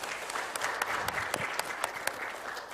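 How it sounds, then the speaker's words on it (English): Conference audience at an academic event claps after a presentation, a fairly quiet, brief burst of scattered individual hand claps with distinct sharp hits rather than a dense roar. "we give applause to Prof. Amin Setialaksono."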